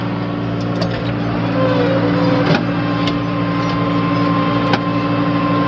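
A farm tractor crawls along in low gear during oat harvest work, its engine droning steadily and loudly throughout, with a few faint clicks and rattles over the continuous rumble.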